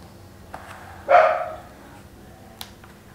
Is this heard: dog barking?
yes